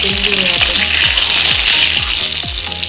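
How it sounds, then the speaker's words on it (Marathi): Spices and curry leaves sautéed with capsicum in a pan, a loud, steady sizzle with quick rhythmic scrapes of a spatula roughly every half second, close up and with no talking. "त्यामध्ये सर्व घेतलेले मसाले टाकून घेऊया परतून घेऊया आपण"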